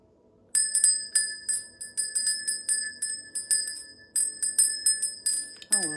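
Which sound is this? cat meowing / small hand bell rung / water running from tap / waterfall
small hand bell rung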